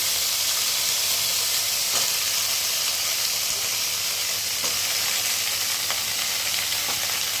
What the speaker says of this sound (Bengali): কালো জিরা ফোড়ন দিয়ে যে ঝিঙে আর আলু দিলাম, তার সাথে একটু টমেটো দিয়ে দিলাম, কাঁচা লঙ্কা।